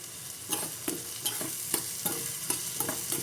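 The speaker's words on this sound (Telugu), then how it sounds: "మీడియం ఫ్లేమ్లో ఫ్రై చేసుకోవాలి వీటిని" Curry leaves fry in hot oil over a medium flame, a soft steady sizzle broken by regular spatula taps about every half second, close and unvoiced.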